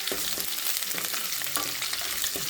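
Onions sautéing in hot oil with mustard seeds, fenugreek and curry leaves for a fish curry, a steady close sizzle with scattered stirring scrapes and spatters throughout, no voices.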